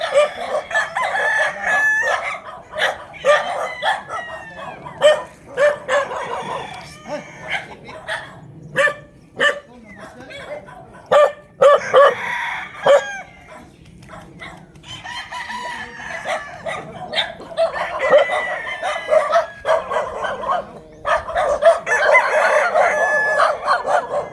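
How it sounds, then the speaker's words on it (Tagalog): Many roosters on a Tanauan City fighting-cock farm crow and cluck in overlapping calls near and far, with dogs barking in repeated sharp bursts among them. "Ang dami magagandang manok."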